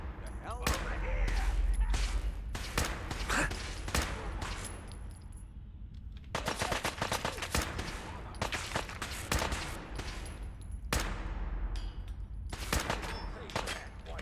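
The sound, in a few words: gunfire in the video game Fallout 4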